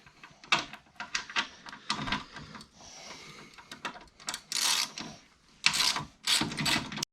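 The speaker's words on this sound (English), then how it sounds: "These have 13 mil bolts, nuts on, so we're going to remove these 3 nuts." A ratchet clicks in quick bursts while removing 13 mm nuts from the top of a BC coilover, close and sharp, with short pauses and a steadier whirring stretch between the clicking runs.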